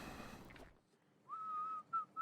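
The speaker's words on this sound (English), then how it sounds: "We heard a man whistling somewhere along the road." A man whistles a steady held note, then two shorter notes, clear and fairly close, after a brief burst of noise and a moment of silence, along a road in the video game Survive The Blackout.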